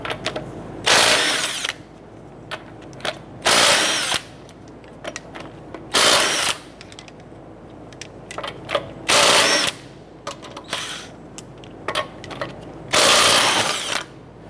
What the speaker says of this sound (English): we're going to go ahead and remove our lug nuts